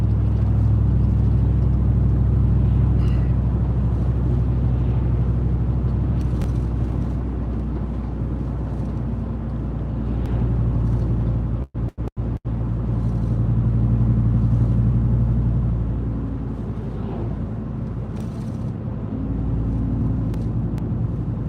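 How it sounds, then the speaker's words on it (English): Trucks and road traffic pass close by in a continuous low rumble of engines and tires. The noise swells and eases as vehicles go past, with a brief dropout near the middle. "Let this traffic go by"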